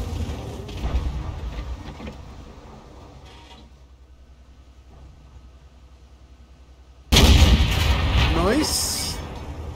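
An AMX 30 prototype tank's main gun fires in a video game, a sudden loud blast that follows a quieter stretch and rumbles on afterward, with a commentator's voice heard before it.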